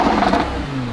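Ford GT sports car engine in Corsa mode with the exhaust removed, revving loudly just after start-up, then settling into a steady lower idle drone.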